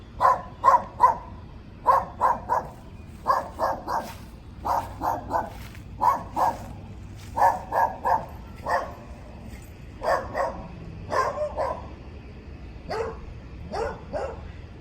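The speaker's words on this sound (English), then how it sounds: "And this dog you'd have to do something with too." A dog at a small fixer-upper house barks repeatedly in quick clusters of two or three yips, loud and close, continuing steadily with brief pauses between bursts and no talking over it.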